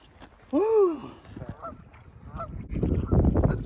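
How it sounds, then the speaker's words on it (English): A goose gives a loud, close honk, followed by a few fainter honks, with rustling and outdoor noise growing louder toward the end, in the backcountry beside a brook trout stream in icy early season. "The geese are honking."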